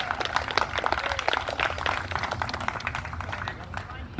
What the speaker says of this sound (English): how about a big round of applause for Carlos